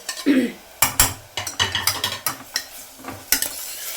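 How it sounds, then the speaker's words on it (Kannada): Onions sauté in a pan toward golden brown, with a light sizzle under repeated close scraping and clacking strokes of a spatula, for a vegetable gravy of fresh peas and potatoes. "ಇದು ಸ್ವಲ್ಪ ಗೋಲ್ಡನ್ ಬ್ರೌನ್ ಆಗೋವರೆಗೂ ಈರುಳ್ಳಿಯನ್ನು ಬಾಡಿಸ್ಕೊಳ್ಬೇಕು."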